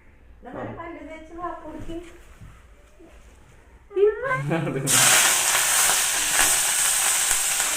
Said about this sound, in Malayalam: എണ്ണ ചൂടായപ്പം കടുക് ഇട്ടിട്ടുണ്ട്